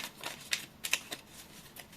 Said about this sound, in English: It's so hard to shuffle this deck